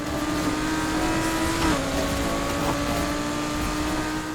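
Steady engine drone of an Audi R8 during a Need for Speed Heat race, holding a sustained tone that drops slightly in pitch partway through as the car shifts, continuous and close with no talking.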